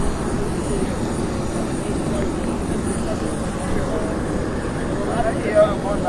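A presidential aircraft departing from an airport runway, a steady distant engine roar spread across the whole clip, with a voice talking over it.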